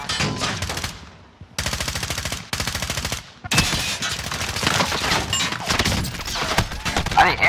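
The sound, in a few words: gunfire from shooting upstairs in the video game Warzone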